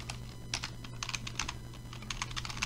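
Typing on a computer keyboard in a quiet room, a quick irregular stream of close, crisp key clicks over a low steady hum.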